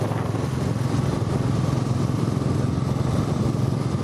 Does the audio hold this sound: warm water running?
no